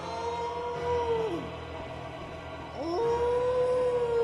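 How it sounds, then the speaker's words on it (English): A boss in the Bloodborne video game lets out long, drawn-out howls, one falling and then a second rising and sustained, loud over a steady game background hum. "I want to hear him howling."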